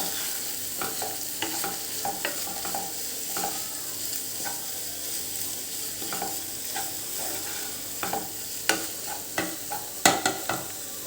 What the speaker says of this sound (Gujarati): એક વખત આપણે આ બધું સરસ મિક્સ કરી લેવાનું